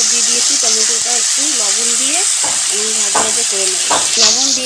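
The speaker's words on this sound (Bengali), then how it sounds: "তো পাঁচ ফোড়নটা ভাজা হয়ে গেলে টমেটোটা দিয়ে দেবো" Tomatoes sizzling in hot oil after panch phoron has been fried, for a Bengali tomato chutney: a loud continuous sizzle with stirring scrapes, heard under a person talking throughout.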